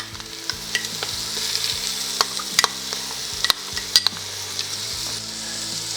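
Onions, carrots, garlic and tomato paste sizzle in a pan for an elk bourguignon, with a soft continuous frying hiss broken by scattered sharp pops and spatters, close up and without talking.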